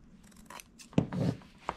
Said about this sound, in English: So that's why I'm using my scissors, because it catches better with the scissors than it does with my finger blade.